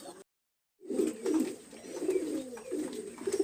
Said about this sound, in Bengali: এখানে দুইটা নর কবুতর আছে